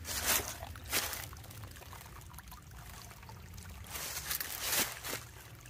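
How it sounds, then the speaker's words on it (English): Water running along a trailside stream on the Broad River Greenway, a steady outdoor trickle and wash with a few louder gusty swells near the start and end. "See if I can get another shot of some more water running."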